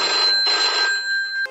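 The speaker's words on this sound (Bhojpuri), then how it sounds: "अभी फोन लगावतन।" A telephone rings steadily while a call is being placed, a clear electronic ringtone heard close, with two bursts and a brief click at the end, with no talking.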